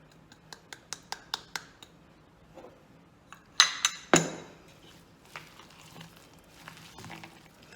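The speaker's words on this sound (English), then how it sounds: "Lastly, just mix in the nuts." Nuts get stirred into egg-free morning glory muffin batter in a bowl, giving a quiet run of scraping clinks and knocks from the utensil against the bowl, with a few sharper taps midway.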